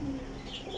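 Purebred pigeons in a loft, a soft low cooing sound close by against a constant background hum, brief and with no talk.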